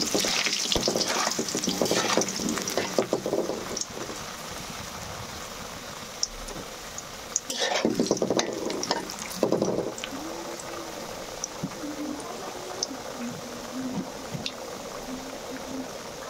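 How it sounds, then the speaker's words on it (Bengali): Potatoes dropped into hot mustard oil in a wok fry with a loud, dense sizzle, with bursts of stirring and scraping in the middle that settle into a steadier, quieter crackle. "তেল গরম হয়ে গেছে, এতে কেটে রাখা আলুগুলো দিয়ে ভেজে নেব লাল লাল করে।"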